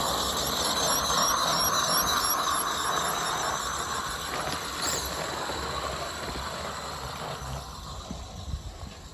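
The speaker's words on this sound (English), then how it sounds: "That squealing is the joy of stainless steel bolts into brass" Stainless steel bolts are driven into brass in a workshop, giving a sustained high-pitched squeal with faint metallic clicks and scraping beneath it.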